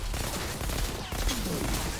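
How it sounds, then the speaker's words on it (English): Gunfire in the video game Outriders rolls on as a dense, continuous barrage under a loud, busy game mix, with sustained shooting and explosions and no clear separate shots. "I gotta use my other gun on him."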